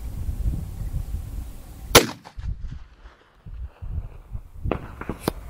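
A single sharp report from a .45-70 Government rifle fired at a target over 1,100 yards away, followed by a few softer clicks and clatters of handling in an otherwise quiet outdoor setting.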